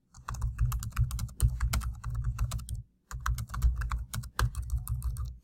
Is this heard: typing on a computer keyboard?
yes